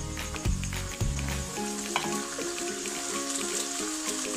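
Onion and tomato fry in a home kitchen pan with a steady, close sizzle, broken by a few scraping stirs and clinks of the spoon against the pan, with no talking.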